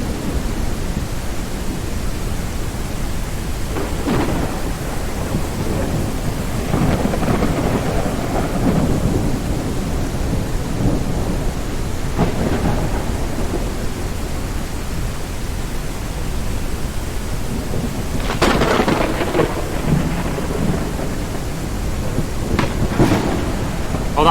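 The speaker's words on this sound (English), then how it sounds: "I would say the thunderstorms here are probably the best part of this game right now" Steady rain with rolling rumbles and a few sharper cracks of thunder in a video game thunderstorm, continuous and fairly loud, with no voices.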